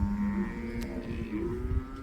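Cattle low repeatedly near a feed area at a station holding a newly arrived mob of about 500 head, the moos steady and overlapping over constant farmyard noise, with no talk.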